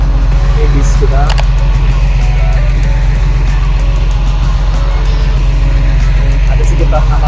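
A tour bus idles at a Saudi Arabian airport with a loud, constant, deep engine rumble close by, while voices murmur in the background.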